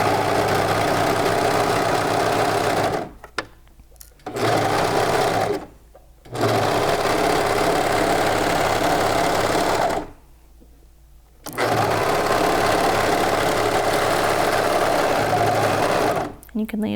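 A sewing machine stitches pajama pant fabric in steady whirring bursts with several short pauses, loud and close, with no voices.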